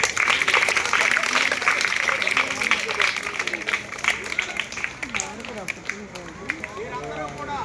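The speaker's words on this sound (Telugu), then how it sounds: "ఆయనకు అందరూ ఒకసారి చప్పట్లు పట్టండి" An audience at a motivational speech for students bursts into applause, a dense burst of clapping that fades over several seconds as a voice talks over the tail.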